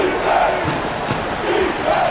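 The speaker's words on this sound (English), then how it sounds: "Crowd responding to that one" A packed basketball arena crowd roars after a three-pointer, a dense sustained swell of cheering with rising and falling shouts close around.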